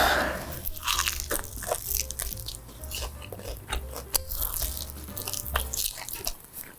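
Crispy fried chicken wing bitten and chewed close to the mic, a steady run of sharp crunches and crackles repeating over several seconds, with no talking.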